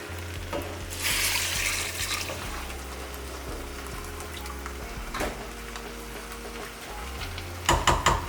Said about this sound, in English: And then we add the water and then we just wait for the rest to cook.